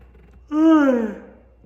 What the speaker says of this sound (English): I'm just yawning because, man, I've been up for too long.